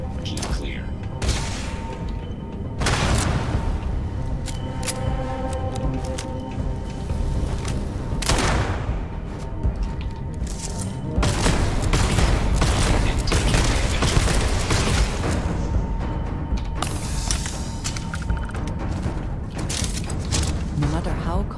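Rapid sci-fi gunfire in Starfield rattles in repeated bursts with scattered heavy impacts and booms over a constant background din, and voices speak at times through the exchange.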